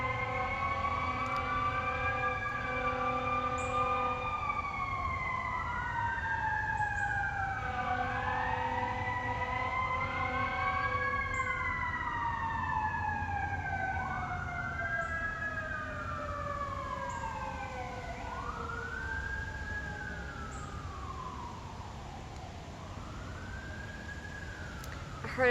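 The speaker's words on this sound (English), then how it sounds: "Heard an ambulance or a fire truck" A wailing emergency siren rises and falls repeatedly in the distance, sweeping steadily over a constant low traffic rumble.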